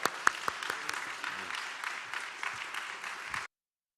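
A young adults' church congregation applauding as a missionary serving in Turkey is welcomed, a few sharp claps leading into a steady medium-sized round of applause that stops abruptly after about three and a half seconds.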